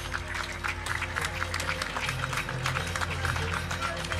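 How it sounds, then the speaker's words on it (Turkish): Applause greets nursing graduates at a health sciences oath ceremony, a steady crowd clatter over a low hum from the hall, with no clear voices. "şimdi de hemşirelik bölümü mezunlarımızı alkışlarla davet ediyoruz."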